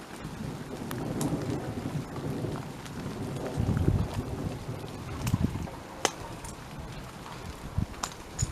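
Steady rain pours during a welcome summer storm, with a deep roll of thunder swelling midway and scattered sharper drops and taps breaking through the constant hiss.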